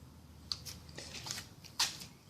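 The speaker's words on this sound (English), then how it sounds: "I'm gonna do a redneck thing and put duct tape on it." Duct tape pulled and pressed over sharp metal edges during a Chevy Tahoe repair, giving a couple of crisp tearing rips among quiet rustling, faint and close with no talk.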